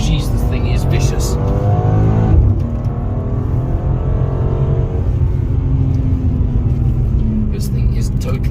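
During an emergency lane change test, a car's engine roars loudly up close, then abruptly drops in pitch as it shifts down a gear, and a strong, steady drone continues.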